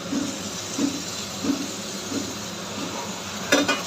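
Steamed cauliflower and potato fry in a cooked-down spice paste with a steady soft sizzle and hiss, stirred in faint rhythmic scrapes, with a brief louder clatter near the end.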